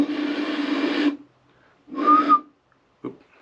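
A person whistles in a workshop, a breathy note sounding twice with a pause between and then a short final chirp, close and clear with no talking.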